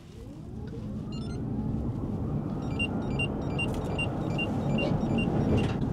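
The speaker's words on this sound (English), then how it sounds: "What you can hear there is an audible intervention from one of the safety systems that are on the market that monitor driver behavior." Electric van driving with a steady low road rumble and motor drone as a driver-behaviour safety system sounds a series of repeated high electronic beeps in short bursts over the engine noise.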